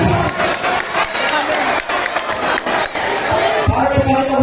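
An audience claps and cheers after a magic trick in which a Rubik's cube is made to move, a dense, loud burst of applause and crowd noise carrying through the whole stretch.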